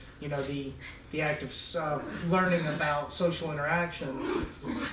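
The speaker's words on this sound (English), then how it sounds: "There's a cat and a dog fighting." A cat and a dog fighting in the background, with growls, whimpers and yips rising and falling beneath a person's continuous nearby talking.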